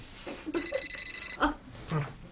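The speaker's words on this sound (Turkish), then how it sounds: "Telefon." An electronic telephone ring trills once, a rapid warbling tone lasting under a second, with brief speech sounds before and after.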